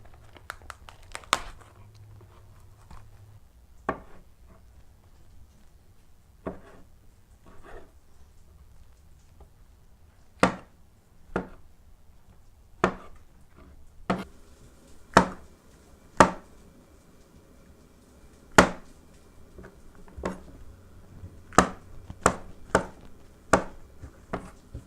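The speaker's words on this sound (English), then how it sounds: "Now you're going to want to cut up your mushrooms into slices" A knife slices white button, oyster, shiitake and cremini mushrooms on a cutting board, giving sharp, separate chops spaced irregularly, then quickening into a closer run of cuts near the end, with no talk.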